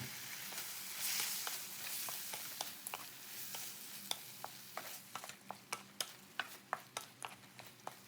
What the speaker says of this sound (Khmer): ឆាចុះឆាឡើងមួយស្ទុះហើយយើងបញ្ញាប់ដាក់គ្រឿងទៅ